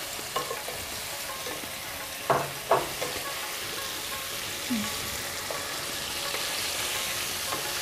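Quiet stirring of a white korma paste made with ground cashew and charmagaj seeds in a pan for mutton safed korma: a few soft scrapes and light sizzling over a low, steady background, no voices.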